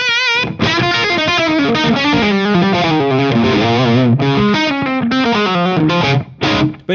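Electric guitar played direct without an amplifier, through distortion and chorus-style effects with a room reverb plugin, sustained chords and melodic lines ringing continuously for several seconds before a brief stop and a few final strums.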